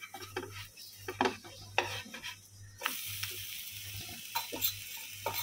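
A coriander thalipeeth, a crisp Maharashtrian flatbread, is flipped on a hot pan over medium-low flame, with a few scraping clatters of the spatula, then a steady close sizzle swelling after the turn. No talking.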